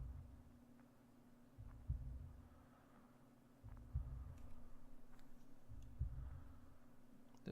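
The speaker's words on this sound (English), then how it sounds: "The breathing and a heartbeat." Breathing and a heartbeat in the video game Year Walk, a faint low thumping pulse repeating every couple of seconds over a quiet steady hum.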